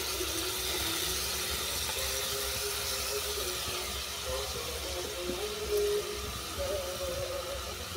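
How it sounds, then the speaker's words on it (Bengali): Banana stem pieces are tipped with their soaking water into a hot pan, producing a continuous watery splashing and hiss throughout, with faint clinks near the end. "এরপর তুলে দিচ্ছি থোড়ের জল সহ দিয়ে দিলাম।"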